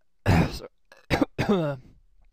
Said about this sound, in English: coughing fit